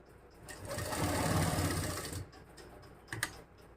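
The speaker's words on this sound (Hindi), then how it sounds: "हम इधर सीधी सिलाई लगा देंगे इस तरह" A sewing machine running a straight seam on a lace neckline, with a steady close whirring rattle of rapid stitching for about two seconds, then stopping, followed by a brief clack.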